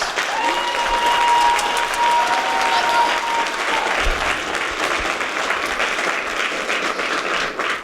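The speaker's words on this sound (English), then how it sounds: "So, one more round of applause for Ian." Audience applause at a high school theatre performance of Guys & Dolls Jr fills the room, a loud, dense and sustained wash of clapping from a large crowd that stays steady throughout.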